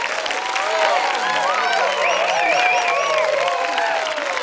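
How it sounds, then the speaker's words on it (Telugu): A crowd claps and cheers in a dense, steady wash of applause, with whoops rising over the clapping throughout. "అతని కోసం గట్టిగా చప్పట్లు కొట్టండి."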